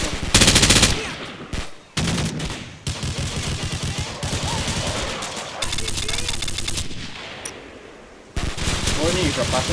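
Pistol and automatic gunfire in the Call of Duty video game, loud rapid bursts and cracks filling most of the stretch with brief gaps, with voices talking and shouting over the shots.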